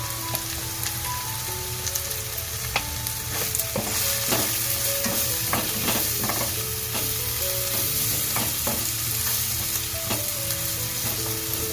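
An onion-tomato masala gravy with turmeric and spice powder sautés in a pan, a steady close sizzle with stirring scrapes under soft background music.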